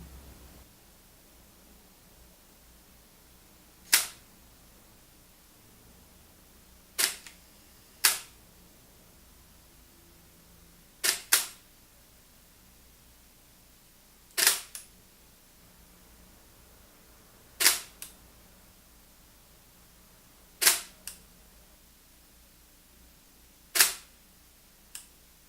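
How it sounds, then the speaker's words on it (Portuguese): A film camera's shutter fires about eight times at spaced intervals, each a sharp, close mechanical click, some doubled, in an otherwise quiet room with faint background hiss. "Observe nesse vídeo o funcionamento do obturador."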